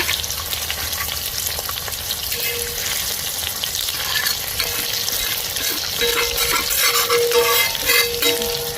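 Pomfret fish frying in masala in a pan, giving a steady dense sizzle throughout with brief stirring scrapes and a faint tonal hiss rising near the end, no voices.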